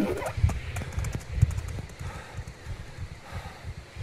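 Ram hooves in the video game SCUM, a quick run of close, soft clopping steps in an uneven rhythm over faint wind.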